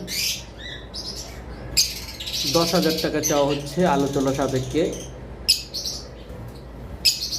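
Violet mask lovebirds give sharp, scattered chirps and squawks near at hand, partly covered by someone talking through the middle.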